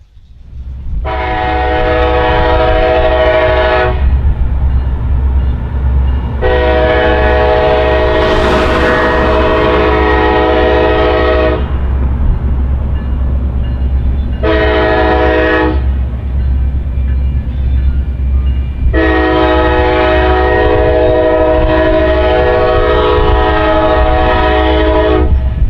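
A KCS EMD SD70ACe diesel locomotive, built in 2007 and rated at 4,300 horsepower, rumbles past loudly and close under a continuous heavy engine drone, sounding four long horn blasts in a long-long-short-long pattern.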